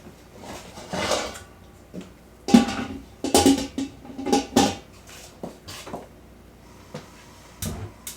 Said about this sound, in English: put the cover on